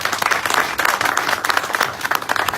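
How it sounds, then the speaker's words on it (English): A loud round of applause from an audience at a Red Bull KTM Tech 3 team event, dense, continuous clapping with no break, close and full. "Can you please give them a round of applause, everybody?"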